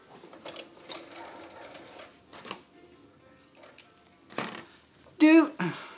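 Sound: sewing machine backstitching

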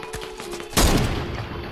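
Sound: gunfire in the video game Fortnite

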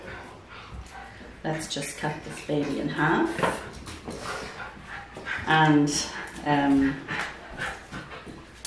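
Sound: dogs whimpering and barking

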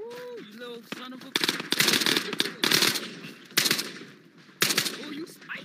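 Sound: gunfire in Ghosts of Tabor video game

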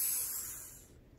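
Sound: voice imitating a hissing cat

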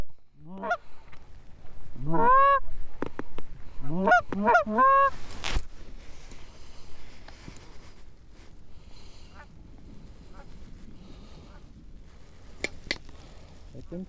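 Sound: geese honking

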